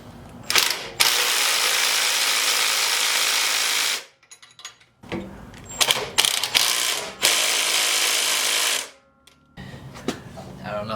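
A hand ratchet tightens new hardware on a mini bike, with long stretches of rapid loud clicking broken by short pauses and a few clanks as the tool is repositioned.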